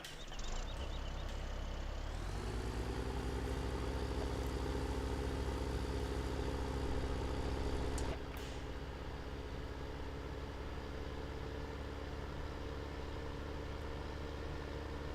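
A tractor engine idles in a steady low rumble, loud and close, with a slight shift in tone partway through; no one speaks, in Farming Simulator 17, Goldcrest Valley map.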